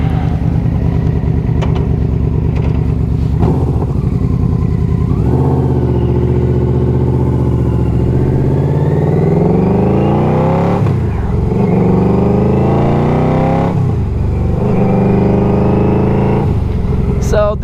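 A Yamaha V4 Royal Star Venture touring motorcycle is being ridden, its engine a loud, steady drone that swells and falls as the revs rise and ease off throughout.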